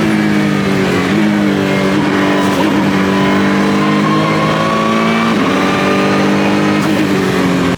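A Ford GT Mk IV race car's engine roars loudly and continuously, its pitch climbing and dropping through gear changes as it drives a fast lap, heard from inside the car.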